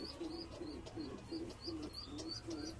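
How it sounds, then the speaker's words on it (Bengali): A male pigeon of an old general breed coos in a low, rolling pattern, repeating steadily at close range, with faint chirps from other birds overhead. "দেখুন এটা নর পায়রা"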